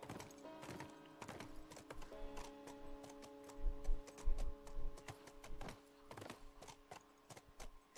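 Horse hooves clip-clop in bursts across a hard surface in The Last Of Us, with an occasional snort or whinny and steady tonal background music underneath; no talk.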